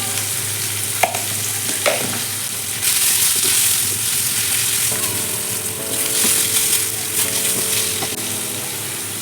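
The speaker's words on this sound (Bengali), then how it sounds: "আমি আলুটা ভাজার সময় একটু নুন দিচ্ছি" Salted potatoes frying in oil crackle and sizzle nearby, with scraping and stirring strokes in the pan, a few sharp clicks, and a louder burst of sizzling partway through.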